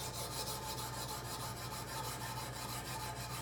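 Knife edge drawn across a 150 grit stone on a Kazak UBR sharpening system, a close, steady scraping rasp in quick repeated strokes, alone without talk.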